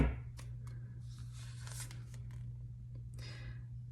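Close, crisp riffling of tarot cards being shuffled in two quick bursts over a steady low hum.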